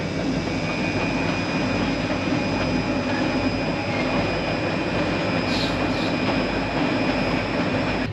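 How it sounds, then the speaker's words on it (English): A train rumbles past close by, a continuous heavy roar of wheels and cars with faint high squeals, steady and loud with no talking. "We got a train going by at the same time."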